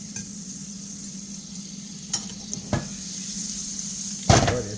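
A meat mixture sizzles softly in a hot buttered pan, a steady frying hiss broken by a few scattered clinks and knocks and one louder clatter near the end.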